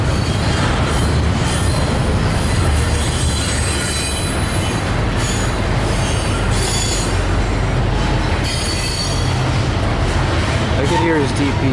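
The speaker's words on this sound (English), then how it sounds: "I could hear his DPU" A freight train with a distributed power locomotive rolls past close by, its steady rumble and rattling railcars filling the whole stretch, with wheel squeal rising near the end.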